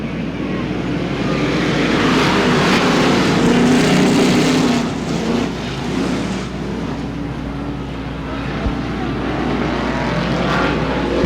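Street stock race cars roar around Butler Motor Speedway, a continuous loud engine drone that swells and eases as the pack circles, heard from trackside with faint voices in the background.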